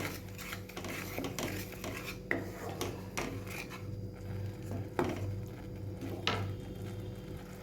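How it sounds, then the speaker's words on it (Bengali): Cauliflower, spices and sugar are mixed in a pan for a gondhoraj cauliflower dish, giving repeated scraping and clinking of a spoon against metal over a low, steady background, close and moderately loud. "এগুলো সব ভালো করে মিশিয়ে দেবো"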